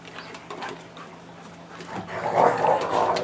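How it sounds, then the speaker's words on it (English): Freshly showered dogs, a brother and sister, making soft scuffling noises and a few low vocal sounds, growing louder toward the end as they play close by. "Lots of happy doggies. They just had a shower."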